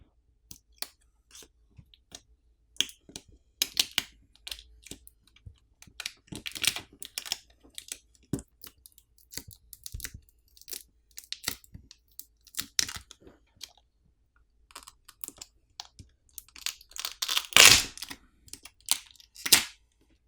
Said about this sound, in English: To remove the battery, there's a provided pull tab we can use to help pry the battery off.